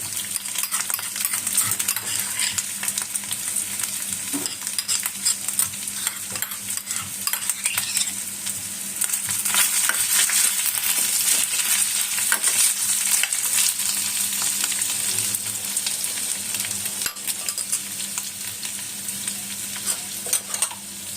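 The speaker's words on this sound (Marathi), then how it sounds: "आपण आता हे चांगलं व्यवस्थित परतून घेतोय" Crushed green chili and potatoes sautéing for a fasting thali, giving a dense, continuous close sizzle with constant stirring scrapes and light metallic clinks throughout, with no talking.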